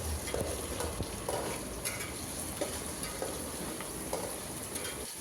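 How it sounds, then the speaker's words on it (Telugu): Chicken pulao masala with ginger garlic paste fries in a pan with a constant close sizzle, while a spoon stirs and scrapes through it in repeated strokes and nobody speaks. "ఇవన్నీ కలిపి బాగా ఫ్రై చేయండి. బాగా మిక్స్ చేయండి."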